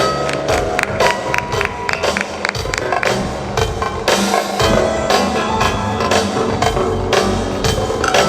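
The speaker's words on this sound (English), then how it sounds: "A round of applause, please, for ASEC Pineda." Audience applause for a government official at a volunteer partnership recognition ceremony, steady dense clapping filling the room and holding loud for several seconds.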